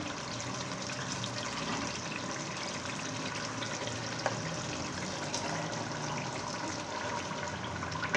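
Spinach goes into a pan of aloo palak gravy and fries, a dense, steady hiss and sizzle heard close up without pause, with one faint tap partway through.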